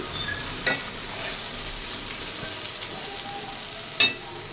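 Beans curry frying over a high flame, a continuous soft sizzle with occasional clinks of a spoon stirring against the pan.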